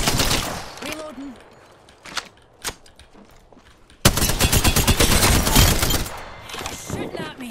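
Enemy gunfire in the battle royale game Apex Legends: bursts of rapid automatic shots crackle loudly, with sporadic single cracks early on and then a dense, sustained volley, while a voice talks over the firing.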